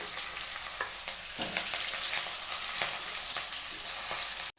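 Large chopped onion hitting hot oil with popped mustard seeds in a pan, a loud continuous sizzle with occasional stirring scrapes, no talking, cutting off abruptly at the end.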